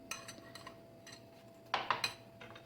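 A metal spoon scrapes and clinks against a dish while spooning dessert mixture in, a few light taps early, then a closer cluster of three clinks near the end, with no talk.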